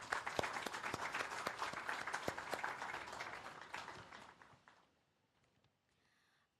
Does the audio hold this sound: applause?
yes